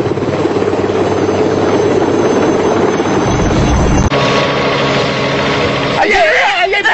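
A helicopter engine drones steadily and loudly, a continuous broadband roar with a shift partway through, while voices are heard faintly in the background.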